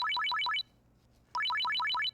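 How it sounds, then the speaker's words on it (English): A phone rings in the Steins;Gate 0 video game with two loud electronic trilling bursts of rapid rising chirps, split by a brief pause, with no talk. "The sound of a ringing phone cut her off."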